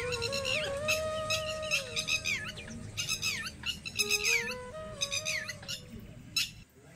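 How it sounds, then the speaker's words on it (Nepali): Birds chirp and tweet in a sunny Nepali village, with bursts of bright calls and trills overlapping over a steady low rumble of background noise. "अनि चराहरू चिरबिराइरहेका छन्"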